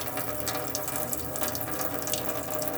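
Water gushes steadily from opened hot taps in a 2020 Coachman Acadia 575 caravan, a continuous close splashing rush with no talk.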